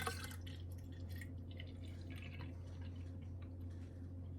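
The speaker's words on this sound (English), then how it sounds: "So we're going to first pour the milk into the container to see how much we need." Milk is poured into a small container as a faint, close, continuous trickle over a steady low hum.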